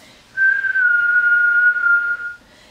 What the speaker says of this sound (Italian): un forellino piccolo e esce un suono chiamato respiro del fischio